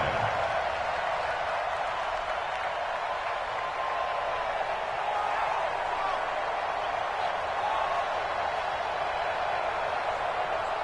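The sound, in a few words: crowd noise in the Dome at a football game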